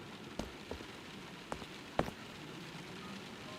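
Steady rain falls in a video game scene as a constant hiss of drops on surfaces, broken by a few faint dull taps, quiet and continuous with no voices.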